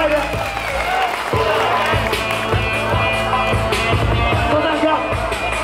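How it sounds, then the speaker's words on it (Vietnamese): A crowd claps and cheers at a street workout battle, a dense sustained roar of applause with a steady pounding beat underneath and a voice talking over it. "Một tràng vỗ tay đây"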